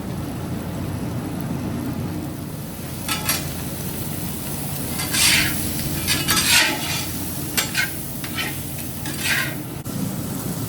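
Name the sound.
sausage browning in a freshly seasoned pot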